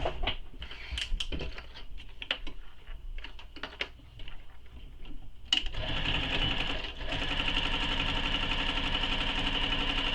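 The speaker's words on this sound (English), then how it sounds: "I'm going to sew this short edge of this pocket here with the seam allowance given in the pattern" A sewing machine stitches the short edge of a fabric pocket, a steady fast whirring hum running continuously after some earlier light handling clicks, close and clear.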